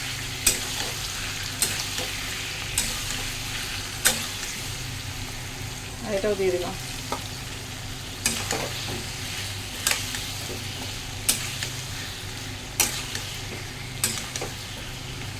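Potatoes and masala paste of ginger, garlic, green chilli, tomato and capsicum fry for a paneer curry: a constant close sizzle broken by regular scraping stirs of a spatula in the pan, with someone briefly speaking partway through.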